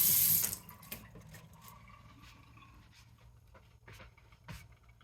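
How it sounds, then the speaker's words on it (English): Tap water runs while fresh parsley from the garden is rinsed, a soft, steady splashing after a louder burst at the start, with a dog panting and faint clinks in the background. "you hear the water, I'm just rinsing off this parsley."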